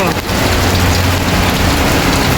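Hail and heavy rain pelt down hard and loud, a dense, steady clatter and hiss of falling ice on surfaces with a low rumble beneath, continuous throughout with no talking.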